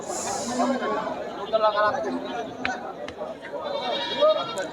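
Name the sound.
goat bleating at goat market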